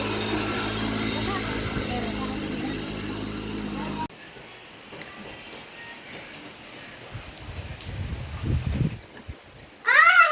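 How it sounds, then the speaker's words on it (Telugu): Rain falls steadily in a village, a dense even hiss at first that then drops to a softer patter with voices talking nearby and a brief sharp sound at the very end. "వాన వస్తున్నది కదా"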